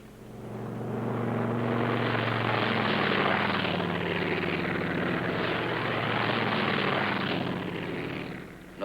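A military aircraft takes off with a loud, sustained broadband engine roar that swells in and holds steady for several seconds before easing slightly, with no voices over it.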